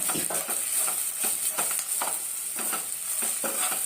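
Ingredients sizzle steadily in a pan for kandikattu charu, with a bright continuous fry hiss and repeated scraping stirs of a spoon against the pan, close and loud throughout.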